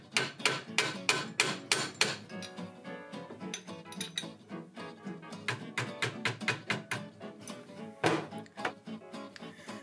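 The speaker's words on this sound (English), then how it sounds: "It presses on, but it needs to be given a little tap just to get it to seat right." A new gear being tapped down onto the spindle shaft of a vintage Technics SL-B2 turntable during a repair, heard as a rapid series of sharp close metallic taps, irregular and repeated, with no voices.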